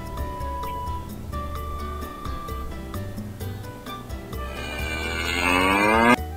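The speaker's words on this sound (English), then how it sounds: "A cow can also live on a farm." A cow moos over a bed of background music, its low call rising into a louder, drawn-out bellow toward the end.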